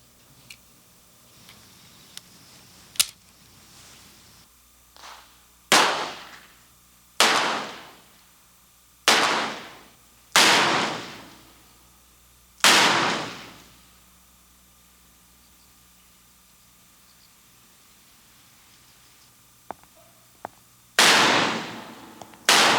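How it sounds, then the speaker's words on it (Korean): Gunshots ring out one at a time in a quiet setting, about seven loud close cracks spaced a second or more apart, each with a long decaying echo, plus a few smaller clicks and knocks between them. "사격 솜씨는 여전하십니다"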